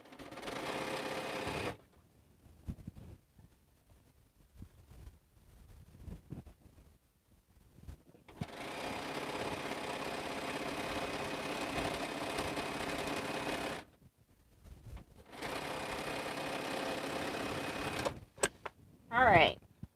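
A sewing machine stitches a quilt in long steady bursts, separated by quiet pauses with faint handling noise, then running again; one brief fumbling sound near the end.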